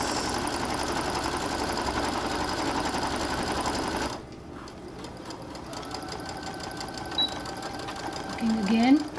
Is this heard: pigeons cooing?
no